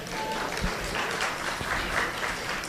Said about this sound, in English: that's worth applause, right?